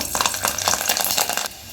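Garlic dropped into hot oil in a kadai, a bright crackling sizzle that bursts up loudly and holds steady for a moment before easing off.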